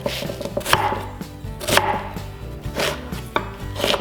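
An onion is chopped finely on a cutting board, with sharp knife strikes in an uneven rhythm, close and clear, and no talking.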